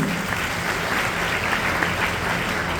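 A crowd applauds steadily, a dense wash of clapping hands that stays even and sustained from start to finish.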